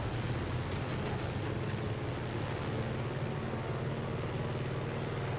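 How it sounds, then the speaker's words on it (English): A propeller plane in the Warzone Pacific video game drones steadily with a dense, continuous engine roar, loud and unbroken throughout. "Getting back into one of the planes."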